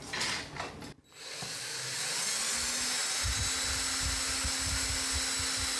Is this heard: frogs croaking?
no